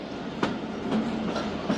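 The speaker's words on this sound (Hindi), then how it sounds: "करोड़ रेलवे स्टेशन अराइवल हुआ है ट्रेन का" The Thal Express rolls on the rails arriving at Karor railway station, a continuous rumble of railcars with periodic wheel clicks and faint squeals, fairly close and unbroken.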